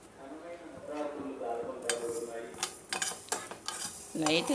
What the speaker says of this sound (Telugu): ఆవాలు ఫ్రై చేసుకుందాము లైట్గా